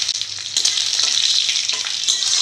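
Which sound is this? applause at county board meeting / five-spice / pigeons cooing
five-spice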